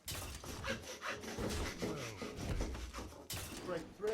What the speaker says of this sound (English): Now, you really need a butcher's saw.